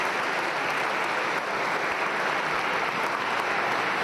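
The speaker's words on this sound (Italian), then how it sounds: "il nostro segretario, a cui va un applauso, Alberto Stefani." A conference hall audience of local administrators breaks into steady, dense applause, a full even wash of clapping that holds at constant loudness throughout.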